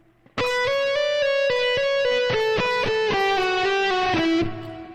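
A distorted electric guitar plays a fast descending legato run after one picked attack, the remaining notes hammered on, pitches stepping along fluidly for several seconds before fading.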